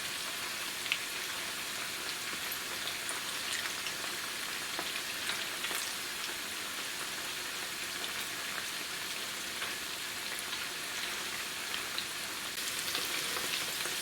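Cauliflower pieces deep-fry in hot oil, producing an even, crackling bubble that holds steady and fairly soft for the whole stretch, rain-like in texture, with no voices present.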